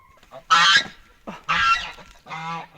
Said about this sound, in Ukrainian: я йду зараз ще випущу гуси за ворота